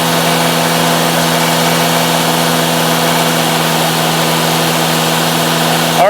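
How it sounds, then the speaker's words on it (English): A Cadillac SRX4 with engine hesitation and power loss runs at a steady, elevated speed, its drone even and close throughout, with a slight change in pitch right at the end. "when you increase the engine RPMs, we had high positive numbers on bank 2"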